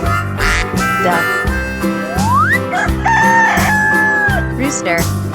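A rooster crows in a children's farm-animal sound sequence, its rising call heard over a continuous loud musical backing that runs throughout.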